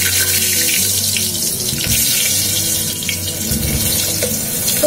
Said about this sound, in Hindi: ऑयल थोड़ा गर्म होने के बाद मैं ये पटेटो को फ्राई करके निकाल दूंगी।